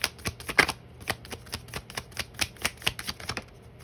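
Tarot cards are shuffled close by, a quick run of soft flicks and slaps in an even, rapid rhythm, with no voice over it.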